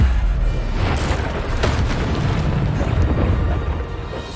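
A Bombarda spell explodes in Hogwarts Legacy on PS5, a deep booming blast with a sharp crack that rumbles loudly before trailing off.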